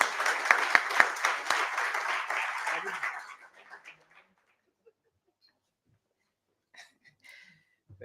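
A crowd at a Meru copyright awareness gathering claps warmly to welcome a speaker, a dense burst of applause for about three seconds that thins out and fades to near silence, with a few faint scattered sounds afterward.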